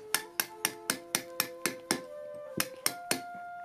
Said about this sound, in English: you go in with a tooth chisel to smooth that out